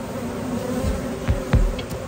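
A dense, close buzzing of many honeybees on a hive frame holds steady throughout, with a couple of brief low thumps partway through.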